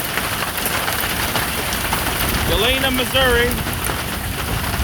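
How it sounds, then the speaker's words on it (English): Hail pelts down steadily in Galena, Missouri during a March 2021 storm with wind, a dense close clatter on surfaces throughout, while someone speaks partway through. "Listen to that hail come down,"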